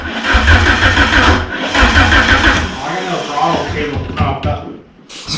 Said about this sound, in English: See how these cams and see how they sound. It's going to be loud because there's no exhaust on right now.